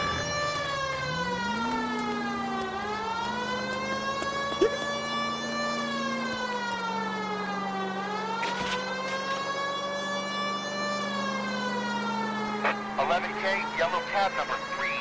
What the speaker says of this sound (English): putting this siren on might remove the element of surprise from your hit and run.